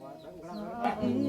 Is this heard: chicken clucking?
yes